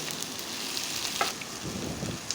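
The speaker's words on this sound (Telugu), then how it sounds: "కొంచెం టమాటా, కొత్తిమీర, పుదీనా కూడా వేసుకుని నూనెలోనే ఫ్రై చేసుకుంటున్నా" Tomato, coriander and mint frying in oil after ginger-garlic paste for a mint pulao, a soft, close sizzle with light crackles and a brief stirring scrape.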